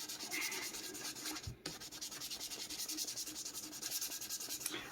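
Fine 2400-grit sandpaper rubs across a Telecaster guitar body in quick back-and-forth passes, a soft, even, rhythmic scratching heard close, with a short pause midway.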